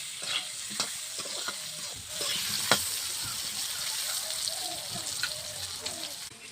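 Plantain frying in a pan for a traditional Bengali shukto, a steady soft sizzle with scattered crackles and occasional sharper pops, fairly quiet and close, no talk over it.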